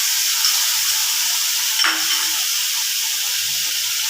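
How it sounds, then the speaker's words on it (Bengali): Hilsa fish pieces sauté in a pan for doi posto ilish, giving a continuous even sizzle and hiss with one brief louder spit midway and faint clatter beneath. "এই যে ইলিশটা সাঁতলিয়েছি"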